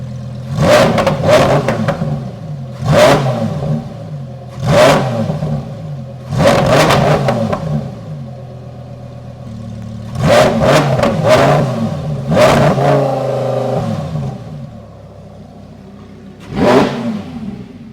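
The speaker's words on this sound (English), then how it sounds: "All right, guys, we're gonna get some revs." A Lamborghini Huracan Tecnica with a Ryft titanium exhaust, held by a rev limiter to about 4,000 RPM, barks through a series of loud, close revving bursts separated by short idle pauses.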